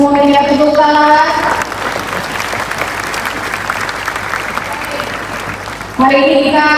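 An event audience at a community and professional association gathering applauds for several seconds, loud and close, with a speaker's voice heard before and after the clapping.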